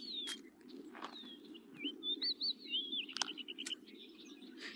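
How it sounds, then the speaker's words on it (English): Grackle calling in the wild near a hawk's nest, a series of thin, squeaky rising and falling whistles and chirps over a steady low outdoor hum, with a few sharp clicks and rustles mixed in. "This is a grackle, perhaps one of the mob that pursues his parents."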